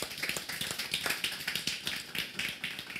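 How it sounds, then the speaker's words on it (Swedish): A conference audience claps for a panel, with quick dense crisp claps from many hands at moderate distance, fairly soft and steady, with no voices over it. "Vi ber dig stanna och tackar övriga panelen med en varm applåd."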